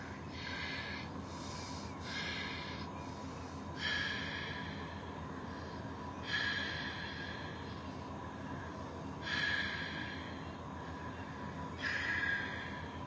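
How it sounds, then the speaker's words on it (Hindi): Bhastrika pranayama: deep, forceful breaths drawn in and pushed out in a slow, even rhythm, roughly five strong breath surges spaced a few seconds apart, close and steady with no voice over them. "पूरा लंबा गहरा सांस फेफड़ों में भरना और छोड़ना।"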